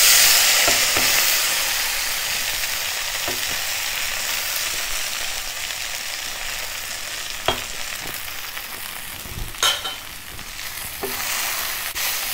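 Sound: stirring rice flakes with spices in a hot pan

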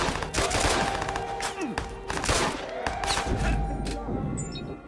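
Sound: gunfire in a shootout, Watch Dogs video game

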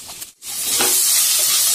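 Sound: sliced onion frying in hot oil in pan

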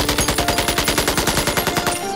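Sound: gunfire after an order to shoot

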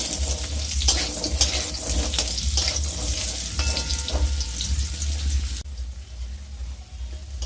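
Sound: potatoes frying in oil in a wok

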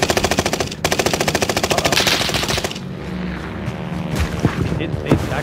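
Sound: gun firing in a video game

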